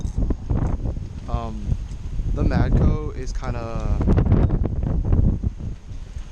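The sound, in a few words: wind blowing into the microphone on a windy day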